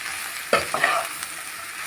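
Turmeric is stirred into vegetables frying in a pan for a vegetable semiya pulao: a soft sizzle with a few scraping stirs of a spoon around the middle, close and alone.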